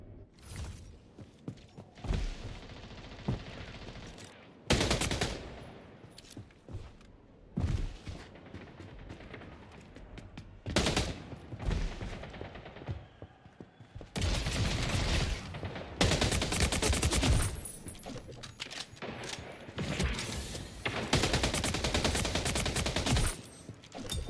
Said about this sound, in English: I'm running into a guy with a shotgun.